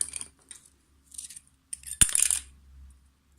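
Scissors cut excess material from a crate-style mini album structure, close and quiet, with a few soft rustles and then a single sharp snip followed by brief scraping.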